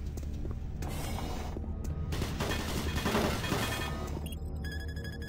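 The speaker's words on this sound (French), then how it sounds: "Tourelle automatique activée." Automatic turret firing in the video game Doom 3, a dense continuous burst of rapid shots with a dull, even roar running through the clip before a brief electronic beeping near the end.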